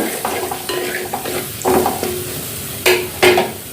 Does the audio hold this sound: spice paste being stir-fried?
yes